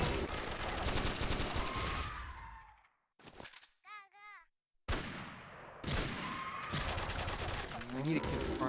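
Bursts of video game gunfire from Metal Gear Solid rattle in loud stretches broken by a near-silent pause with a brief tonal sound, with voices talking over the action.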